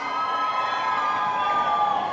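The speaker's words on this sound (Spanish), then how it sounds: "¿Dónde está el grito de las solteras?" A crowd shouts and cheers at a charreada at Rancho El Sombrero during a manganas a pie event, a steady dense roar of many voices with whoops, fairly loud and continuous throughout.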